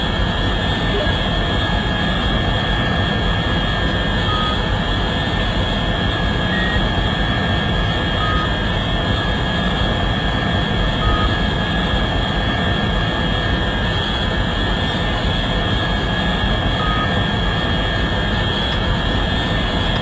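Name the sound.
scramjet spacecraft engine in Orbiter 2016 video game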